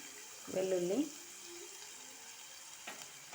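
Okra fry sizzling in a pan while being stirred, with a short louder burst of scraping and sizzle near the start that fades to a faint, steady frying hiss.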